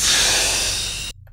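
A voice imitates a bus air brake releasing, giving one loud, breathy hiss that holds for about a second and then cuts off sharply.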